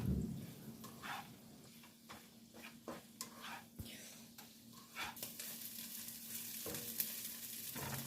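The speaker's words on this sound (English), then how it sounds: "I add my rolls to it. I'll let this cook until the bread browns nicely" Bread rolls fry in melted butter in a pan with a soft, quiet sizzle, broken by intermittent scraping and stirring clicks close by.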